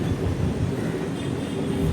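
The Kacheguda Express runs along a long curve near the Chennai port area, a steady, close rumble of rolling wheels and carriage rattle with no talking.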